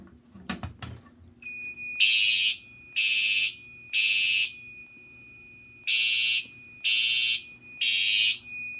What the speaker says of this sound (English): We have alarm on zone 4.